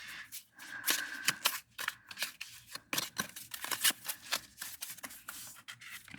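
A deck of cards is shuffled repeatedly, a quick series of sharp riffling bursts and flicks, close and fairly loud.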